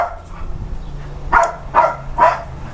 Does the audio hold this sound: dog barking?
yes